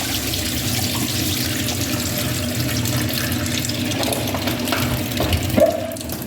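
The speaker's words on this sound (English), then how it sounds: "so I wash off my ackee them to put in now" Ackee being washed under a running tap, a continuous splashing stream of water with a low pump-like hum beneath it and a brief clatter near the end, no voices.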